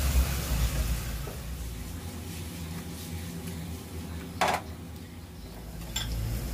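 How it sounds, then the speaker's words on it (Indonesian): A metal utensil scrapes and clinks against a pan while stir-frying broccoli and straw mushrooms, in a low, steady background of sizzling, with one louder clank. "Lalu aduk-aduk supaya bumbunya merata."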